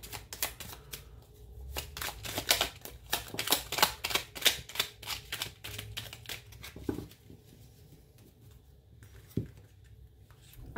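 Oracle cards shuffled and drawn by hand, a quick run of dry, crisp flicks and riffles close up, then a few isolated taps and slides as single cards are handled and laid down.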